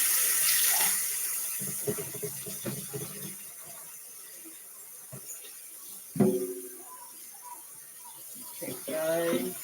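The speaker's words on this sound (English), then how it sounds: "Let me rinse this bowl." Tap water runs into a kitchen sink while a bowl is rinsed beneath it, a steady close splashing hiss with clunks and handling noises, and voices speak briefly over it.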